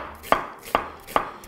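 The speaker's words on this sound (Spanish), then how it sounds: "Ahora vamos a cortar así en juliana finita." A knife slices an onion into fine julienne strips on a cutting board, three crisp, evenly spaced chops close by with no talking.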